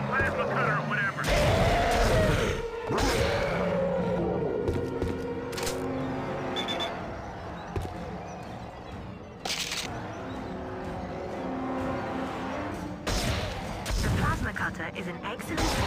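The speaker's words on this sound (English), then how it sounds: "Just keep slicing with a plasma cutter or whatever." A plasma cutter weapon firing in the mobile game Dead Space Mobile, with loud, repeated sharp blasts over dense game noise and a constant rumbling backdrop.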